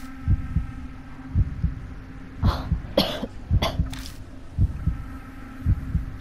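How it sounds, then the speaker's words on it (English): Hiro coughs violently in a string of harsh, close bursts, with a steady low rhythmic throbbing running underneath the whole time. "Hiro suddenly starts coughing violently."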